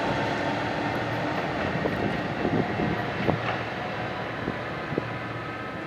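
A Metrolink train led by an F59 locomotive approaches, a steady rumbling drone that holds at even loudness with a few faint clanks and knocks over it.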